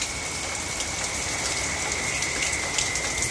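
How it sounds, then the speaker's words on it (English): Hurricane Debby's rain pours steadily onto a bonsai garden, a dense, even hiss of drops striking surfaces that stays moderately loud and constant throughout. "The rain comes and it goes."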